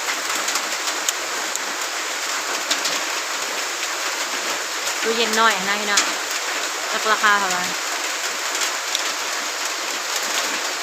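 Steady rain pours down during a morning storm in Laos, a dense continuous hiss of drops on surfaces close by, while people talk over it and a bird briefly calls.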